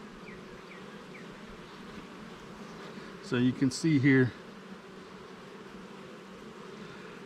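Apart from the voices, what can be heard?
honeybees buzzing on a hive frame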